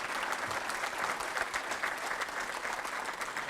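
Applause for a new member at a Paducah Chamber of Commerce meeting, a steady roomful of hands clapping continuously at moderate loudness with no pause.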